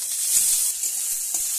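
Tomatoes, garlic and ginger fry in a pan, making a brief, close hiss and sizzle with a few soft stirring bumps, and no talking.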